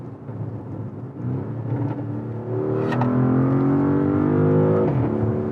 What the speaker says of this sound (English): a big growling V8 engine. The exhaust is, crackling and popping